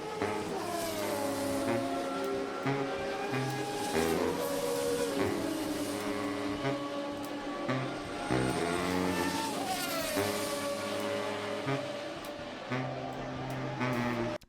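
A fast car driving in Roblox Brookhaven, its engine whining and revving up and down through gear shifts in a loud continuous drone, drifting at high speed, with a voice occasionally heard over it.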